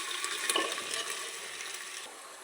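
Garlic frying in a pan for kadhi, a loud, dense, continuous hiss of hot oil with faint stirring, heard up close and steady for the whole stretch, no voices over it.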